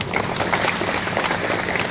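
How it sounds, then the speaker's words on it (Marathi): A crowd at a BJP workers' rally in Itade, Bhiwandi, clapping in applause for Jagan Patil, a dense, continuous wash of many hands that stays loud and steady from start to finish. "सगळ्यात आधी जगन पाटलासाठी सगळ्यांनी टाळ्या वाजवाव्या।"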